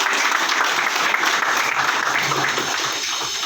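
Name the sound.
audience applause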